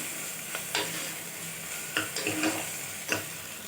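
Ginger garlic paste and onion sautéing in a pan for a vegetable kurma, with a steady soft sizzle and several sharp stirring scrapes and taps spread across the clip, no talking.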